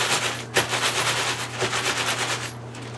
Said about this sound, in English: I smear the lube that's on the bag all over the casings